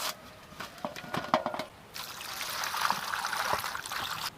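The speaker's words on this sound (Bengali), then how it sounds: "আমগুলো এবার ধুয়ে কেটে নেব" Tap water runs while raw mangoes are washed for a prawn mango pickle. A few soft splashes and drips come first, then a quiet, steady stream of running water flows nearby.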